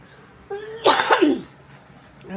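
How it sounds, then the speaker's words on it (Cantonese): A person at home coughs from laughing: a brief voiced sound, then a sharp, close burst of coughing that fades quickly. "笑到我氣咳啊！"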